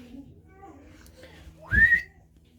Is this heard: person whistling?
yes